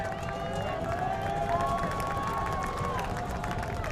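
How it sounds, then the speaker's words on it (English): Crowd noise swells at a high school lacrosse championship game just before a face-off, a steady roar of many voices, cheering and some clapping sustained loudly throughout with no clear single talker. "Crowd getting amped up early for this face-off"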